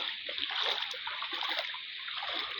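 Floodwater splashes and sloshes steadily across a knee-deep flooded brick road outside a house, a continuous close churning of water without talk.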